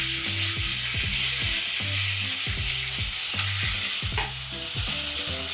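Chopped onions hit hot oil with cumin for an okra kara kuzhambu, sizzling steadily and loudly up close while a utensil stirs and scrapes the pan in a regular rhythm.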